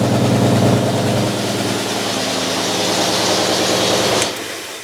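A 1968 GMC truck engine idles loud and close with a steady low rumble, then cuts off near the end.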